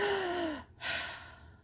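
A voice imitates someone breathing at a bedroom door, giving a close, drawn-out breathy exhale with a falling tone, a brief pause, then a second airy breath.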